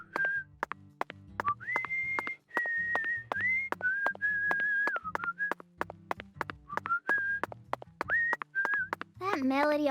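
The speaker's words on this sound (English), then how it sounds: "He's whistling!" A character whistles a wavering melody in the video game Deadly Premonition 2, clear sustained notes in phrases, accompanied by regular sharp ticking beats and low musical tones, ending with a short vocal sound.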